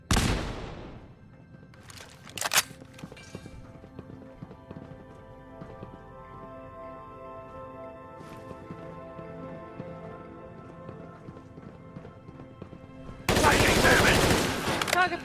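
Gunfire at target practice in the video game Fallout 4: a few sharp isolated shots early on, then quiet game ambience with tonal music, and a dense loud burst of rapid fire near the end.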